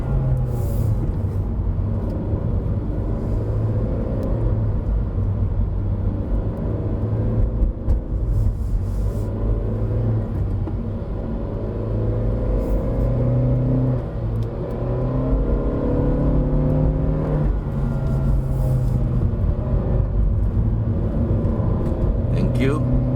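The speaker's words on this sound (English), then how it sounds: "you can hear the CVT working very hard." A 2020 Honda Civic 1.5 turbo with a CVT climbs a mountain hill road, a steady droning engine rumble with rising and falling whine, heard from inside the cabin. There is no break in the sound throughout.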